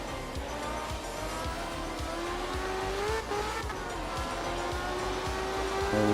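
A small K-car truck revs in a video game racing game, its engine holding a steady rising drone with rhythmic low pulses and a drawn-out tire squeal, loud and continuous with no talking.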